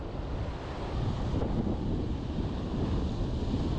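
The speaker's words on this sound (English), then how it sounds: "Wind's starting to kick up pretty good right now." Strong wind gusts buffet the microphone at the shore while fishing for sheepshead, a loud, continuous rumbling roar that fills the whole stretch, with no talking.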